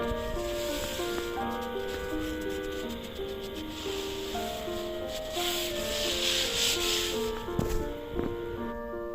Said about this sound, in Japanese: 安い木工用のルータービットですが、これでアルミも普通に削ることができました。